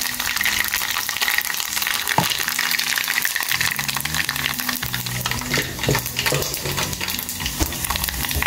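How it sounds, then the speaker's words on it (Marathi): Mustard seeds and cumin sizzle in hot oil, making a loud, dense frying hiss with scattered stirring clicks throughout. "तर आतां हितून हांव पयलीं घालता आमची राई मेन इन्ग्रिडियंट"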